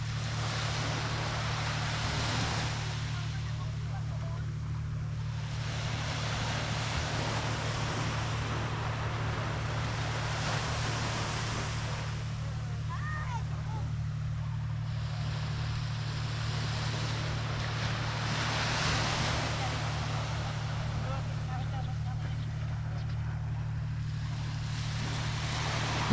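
Sea waves roll in steady surges under a constant low engine hum, with wind buffeting the microphone throughout.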